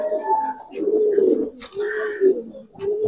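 Giribaz pigeons in a loft, with a released female among them, giving close, repeated soft throaty coos in a rhythmic series.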